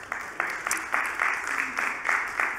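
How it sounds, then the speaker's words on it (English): Church congregation applauding during a Sunday morning service, a steady ripple of clapping with soft bursts, heard alone without talk. "You can clap, I guess."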